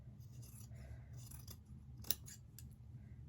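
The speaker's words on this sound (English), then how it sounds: "I'm going to just use a very sharp pair of fabric scissors to start this." Quiet snipping of sharp fabric scissors through thick fleece, with one crisp louder cut standing out over a low steady background hum.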